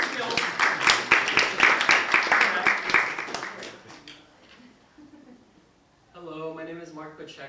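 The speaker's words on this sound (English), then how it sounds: "Give Steph a round of applause for her Zoom skills." A small audience claps in a lively burst of close applause that fades out over a few seconds, followed after a quiet gap by a person beginning to speak.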